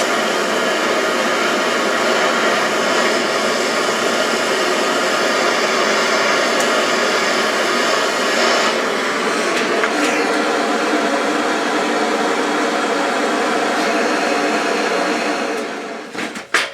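A torch heats a metal chain guard piece before bending it in a garage repair, giving a steady, loud broadband roar that holds almost unbroken for about sixteen seconds and cuts out at the end.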